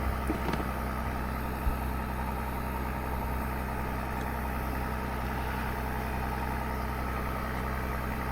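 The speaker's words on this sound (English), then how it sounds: "If y'all can hear that machinery running behind me, that's an irrigation pump." A steady irrigation pump engine drones continuously at moderate distance, a constant low hum with no talking over it.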